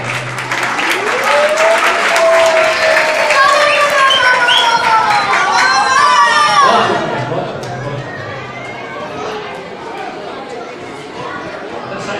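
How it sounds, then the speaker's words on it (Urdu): An audience at a gathering claps and cheers, a loud burst of applause with whistles and voices that swells for several seconds, then fades to lighter clapping and murmuring chatter. "ان سب کے لیے آپ لوگ ایک تالیاں بجائیں"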